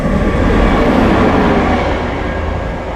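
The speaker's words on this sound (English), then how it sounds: "train coming fast" A fast train rushes past a roadside shelter, a loud, steady broadband roar that holds for the whole span and eases only slightly toward the end, with no voices.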